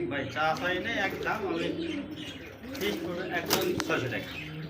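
Pigeons coo and flutter at a pigeon market, close and fairly loud, with people talking over them throughout.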